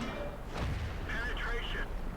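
A tank shell in World of Tanks strikes armour with a heavy boom and bounces off with a metallic ringing whine, one brief close impact over game ambience.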